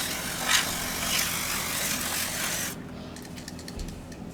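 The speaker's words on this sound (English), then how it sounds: "With a contact cleaner. It will evaporate fast and it will work again." WD40 contact cleaner sprayed from a can onto a SilverCrest SMW 800 C3 microwave circuit board, a steady close hiss lasting under three seconds, then quieter faint rubbing.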